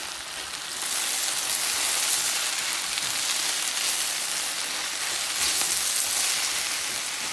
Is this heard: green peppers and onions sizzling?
yes